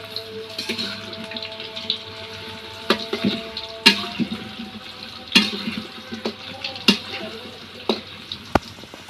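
Old potatoes fry in hot oil with a steady, soft crackle, broken by sharper clinks and pops, a few louder bursts standing out near the middle and end.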